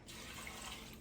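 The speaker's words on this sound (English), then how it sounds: "I'm gonna add some water to it" Water pours steadily into a pot of noodles in a home kitchen, a faint continuous splashing hiss heard on its own.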